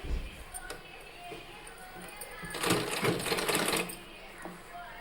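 Domestic sewing machine stitching a plain seam in warm fabric for a baby's cap, running at a steady close whir that grows louder and busier for a couple of seconds midway.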